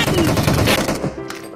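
Automatic gunfire in a PUBG match, a dense burst of rapid shots that runs almost the whole way at close, loud level, fading slightly near the end.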